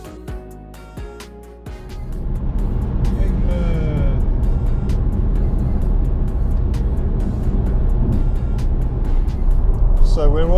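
A car cruising on a long road trip home toward West Sussex from John O' Groats: a steady, close cabin rumble of engine and road noise, preceded by a quieter moment with a few sharp ticks and a voice.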